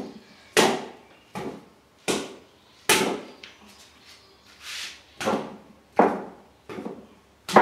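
Hammer tapping while sculpting, about a dozen sharp separate strikes spaced roughly half a second to a second apart, close and fairly loud with quiet gaps between.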